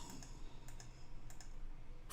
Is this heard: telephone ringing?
no